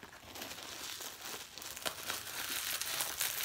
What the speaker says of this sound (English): Now it doesn't want to come off my fingers.